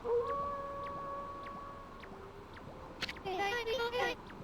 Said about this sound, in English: That was Kimu's howl. He's calling to you soon.